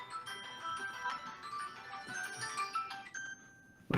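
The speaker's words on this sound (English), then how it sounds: "my phone never rings except when I'm doing a presentation." A phone ringtone plays a repeating electronic melody, fairly quiet and steady for several seconds, then cuts off abruptly near the end with a louder knock.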